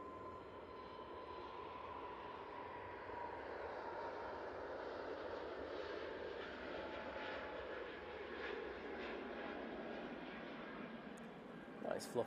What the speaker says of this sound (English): let's get this KLM A321neo going back to Amsterdam Schiphol going out